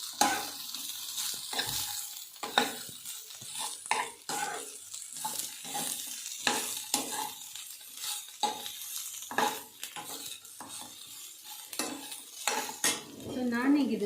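Bitter gourd (hagalkai) palya is stir-fried in a pan, with repeated scraping and clinking of a spatula against metal over a faint sizzle, irregular strokes close by and moderately quiet, with no voices.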